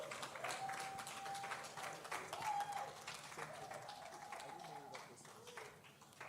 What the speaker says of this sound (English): with a standing ovation and a resounding clap, can we welcome Toby Fashike?